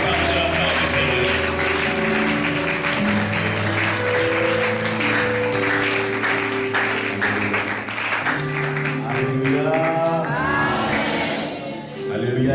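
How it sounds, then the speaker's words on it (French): A church congregation applauds and cheers loudly for several seconds, dense clapping with shouts and voices mixed in, fading toward the end as a tone sounds. "Debout, nous acclamons très fort pour l'homme de Dieu."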